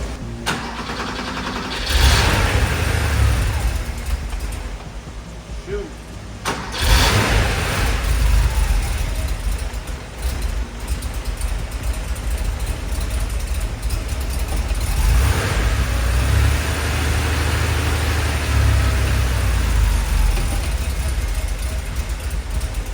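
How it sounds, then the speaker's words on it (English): A 1982 Porsche 911 Slantnose, a garage find, cranks over inside a shop, fires, stumbles, and catches on a second attempt, then settles into a loud, rough, steady idle up close. "I'm gonna go ahead and start the car."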